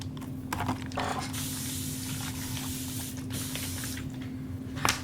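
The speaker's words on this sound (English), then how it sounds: "So I'll just give it a spray with this fine mist bottle here." A fine mist spray bottle sprays water onto leather being shaped into vases and bowls, giving several short hissing bursts close by, separated by brief pauses and faint handling clicks.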